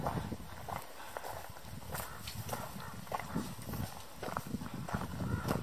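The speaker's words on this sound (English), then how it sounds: "I've got three cows hiking with me on the Arizona Trail." Three cows walk along a rocky stretch of the Arizona Trail in the Huachuca Mountains, their hooves giving irregular, fairly close thuds and scuffs over a soft outdoor background.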